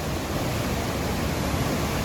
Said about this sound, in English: You can see the River Bran flowing down here.